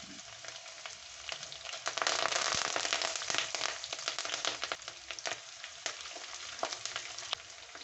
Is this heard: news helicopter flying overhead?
no